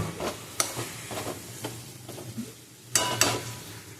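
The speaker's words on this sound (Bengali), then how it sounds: "সমানে নাড়তে হবে।" Ash gourd ghonto frying in a pan is stirred with a utensil, giving soft scraping strokes, light clatter and a faint sizzle, with a few sharper knocks against the pan, close and alone.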